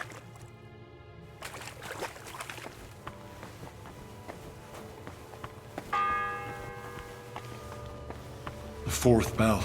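A church bell rings in the Kingdom Come: Deliverance II video game, with several distinct resonant strikes ringing out over a quiet ambient backdrop, a brief voice heard between them.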